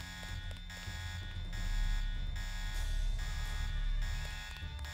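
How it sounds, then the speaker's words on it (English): A steady electronic alarm buzzer drones in the Deus Ex video game, a continuous tone that rises slightly in the middle and holds for the full stretch, with no talk over it. "Well, someone hit the alarm."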